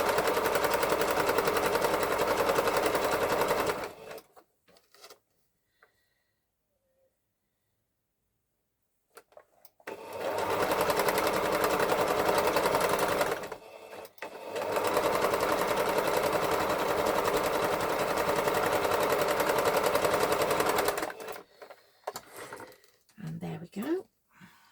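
A sewing machine stitches a circle dress in long steady runs, loud and close, stopping for a few seconds of near silence between bursts and ending with a short stop-start stretch.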